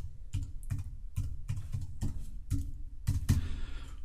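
Keystrokes on a computer keyboard while typing text in Photoshop, a steady run of close, crisp clicks in irregular bursts with a slightly louder flurry near the end, no talking.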